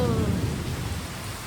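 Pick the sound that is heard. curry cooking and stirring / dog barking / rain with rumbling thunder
rain with rumbling thunder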